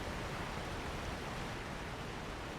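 Steady, dense rush of a waterfall in the video game Elden Ring, a continuous broadband roar at even loudness throughout, with no talk over it.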